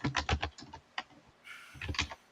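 A person makes a pretend typing noise on request, a voice imitating keyboard clatter with quick bursts of clicky taps in short runs separated by brief pauses, close and fairly quiet.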